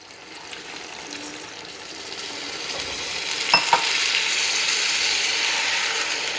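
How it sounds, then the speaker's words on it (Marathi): Water poured into a pan of sizzling chicken leg piece masala, the frying hiss swelling loudly after a short stir and clink, then holding steady. "आता आपल्याला ह्यामध्ये पाणी घालायचं आहे. मी साधारण अर्धा ग्लास पाणी घालणार आहे."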